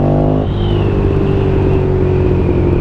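A Ducati Streetfighter 1098 S, a 160-horsepower motorcycle, idles and then revs hard to around 4000 rpm close up. A loud, rough engine roar rises in pitch and holds steady.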